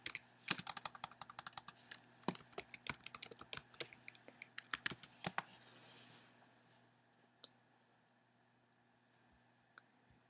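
Rapid clattering keystrokes on a computer keyboard in a quiet room, a dense burst of typing for about five seconds, then a few isolated key taps trailing off.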